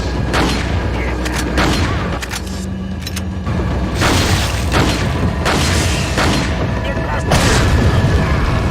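Grenade blasts and gunfire in the video game Resident Evil 4, heard as loud repeated booms and bursts in a busy, continuous stretch of combat noise.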